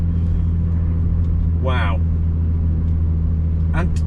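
A BMW Z4 driven hard on a Nürburgring Nordschleife lap drones with a steady, loud engine hum inside the cabin, while a voice briefly exclaims over it.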